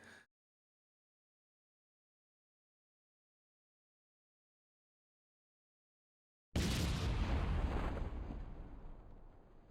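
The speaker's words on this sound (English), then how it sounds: "That explosion was thankfully not me, that was the rocket engine hitting the ground some ways away." A rocket engine crashes into the ground some way off and explodes in Kerbal Space Program, a sudden loud blast after long silence followed by a roaring, crackling rumble that slowly fades.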